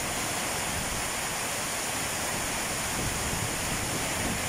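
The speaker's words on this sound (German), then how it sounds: "es schüttet wie verrückt hier Gewitter rundherum." Dense, steady downpour of heavy rain during a thunderstorm, a constant broadband hiss with no breaks and no voices.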